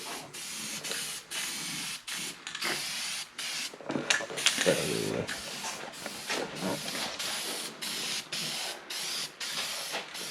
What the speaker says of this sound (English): spraying the weld through primer there